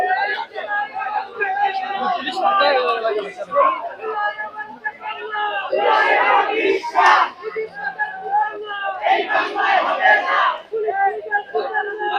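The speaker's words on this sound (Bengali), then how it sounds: "এখানে ছাত্র জনতা কিন্তু স্লোগান দিচ্ছে" A large crowd of students chanting slogans in unison at a police line outdoors, loud rhythmic shouted phrases rising and falling with crowd noise throughout.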